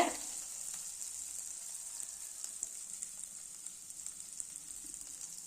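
Onion, green chili and curry leaves fry in a pan of oil while crab rasam is being made, with a steady close sizzle and small crackles and pops throughout, and no talking.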